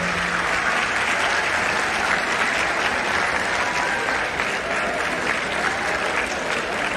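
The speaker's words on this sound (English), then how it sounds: "I think we must all welcome him with a thunderous" Steady, full applause from a school event audience welcoming a guest in Jalandhar, Punjab, loud and continuous for several seconds with no speech over it.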